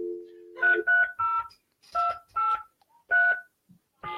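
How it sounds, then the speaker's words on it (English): Touch-tone dialing for an outgoing phone call: a low dial tone is followed by about seven distinct two-tone keypad beeps, each short and crisp, heard clearly and alone at a steady, slightly uneven pace. "Making our first phone call for 330."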